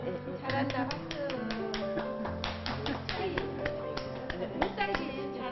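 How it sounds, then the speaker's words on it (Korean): Rhythmic clapping in time accompanies a singer at a Korean Buddhist temple gathering, with a melodic voice and tonal accompaniment running throughout. "잘한다 박수."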